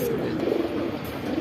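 Indian Kaldom pigeons coo softly nearby in a low, throaty murmur under steady background noise.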